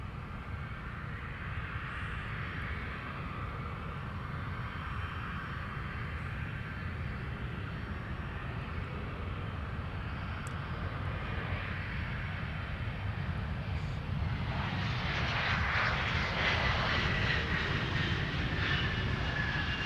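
An airplane takes off from runway 17 at Minneapolis–Saint Paul airport, a broad, steady engine roar that builds slightly louder toward the end, heard from a distance with no talk over it.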